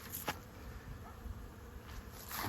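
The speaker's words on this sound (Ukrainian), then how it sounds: "Обліт молодої бджоли і, напевно, і тут проблеми." A soft, continuous buzz of many young honeybees on an orientation flight hums around the hive, faint and steady, with occasional louder passes of individual bees flying close.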